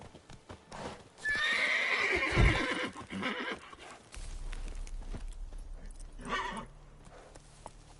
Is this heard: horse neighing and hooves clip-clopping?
yes